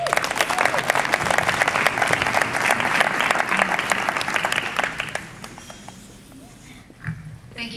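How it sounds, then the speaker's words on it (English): Applause for a young doctor just accepted to medical school, a dense burst of clapping from a lecture audience that swells, then thins and fades out over several seconds. "Please clap for her."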